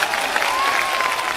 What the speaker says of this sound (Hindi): जज साहिब। तालियां।